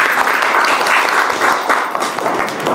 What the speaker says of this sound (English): I would like to request you all to clap for yourself,